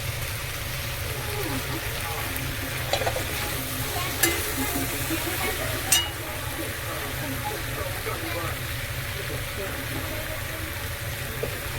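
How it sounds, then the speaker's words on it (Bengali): Prawns sizzle in a hot frying pan, a steady, close crackle that runs for the whole stretch, with a few sharp clinks of a utensil against the pan. "চিংড়িও দিয়ে দিচ্ছি একসাথেই।"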